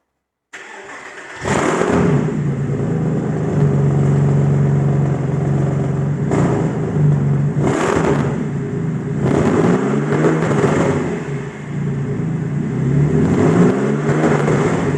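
Straight-piped 2003 Porsche Boxster S 986 flat-six with a sheared exhaust manifold bolt, cranking and firing up loudly, settling into a rough idle, then blipped up in several sharp revs close by.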